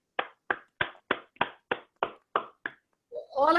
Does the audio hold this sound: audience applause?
yes